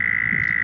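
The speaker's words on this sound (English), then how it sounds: "It's the Canadian toad. It has the most beautiful song of all" A Canadian toad calls in one long, unbroken trill that holds a steady pitch, loud and close, with no other sound over it.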